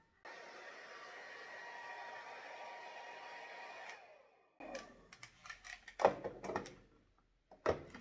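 A hair dryer blows with a steady whooshing hum for about four seconds while drying a painted recycled plastic cup, then cuts off, followed by close handling knocks and clatters.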